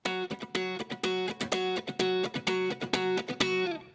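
Clean electric guitar playing a tight, rhythmic picked riff, with short muted notes repeating in a steady, funky pattern, close and alone.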